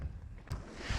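Wind gusting across a microphone on a fell walk in the Lake District mountains, low buffeting rumbles swelling and easing in short bursts, fairly close and loud, with no one speaking.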